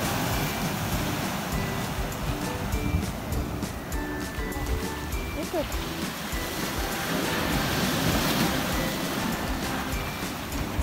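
Ocean surf at a beach in Mangalore, with waves rolling in as a broad, continuous roar at constant loudness, mixed with wind buffeting, and no voices.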